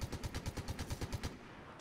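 Rapid bursts of submachine gun fire in a video game, a fast, loud, evenly spaced string of about a dozen shots before the shooting stops.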